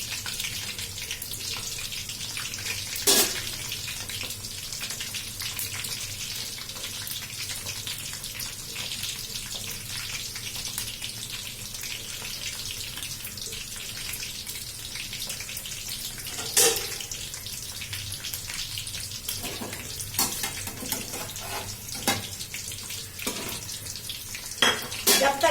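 Potato-stuffed chilli pakoras coated in gram flour fry in hot oil, a steady close sizzle and hiss running throughout with a few brief clinks of utensils.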